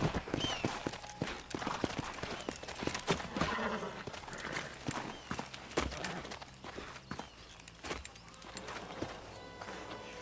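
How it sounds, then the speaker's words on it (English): Horses in the video game Red Dead Redemption clop along with irregular hoof beats and occasional snorts, moderately close amid outdoor game ambience, with brief voices in places. "Let's hold up a minute and find a spot for our horses."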